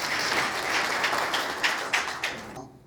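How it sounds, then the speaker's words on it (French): Conference audience applauding the officials, a dense crowd clapping steadily for a few seconds, then trailing off abruptly. "Je vous demande d'applaudir les officiels."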